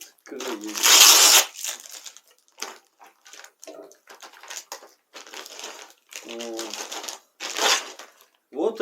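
Parcel packaging being torn open, a loud rustling crinkle of wrapping early on, then softer intermittent crinkles and handling noises with someone speaking between them; the parcel holds ceramic sanding belts.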